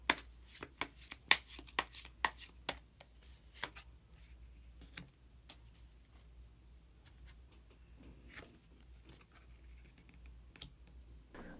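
Tarot cards are shuffled and drawn by hand: a quick run of crisp riffling flicks up front, then softer, scattered slides and taps as single cards are pulled, close and quiet in a still room.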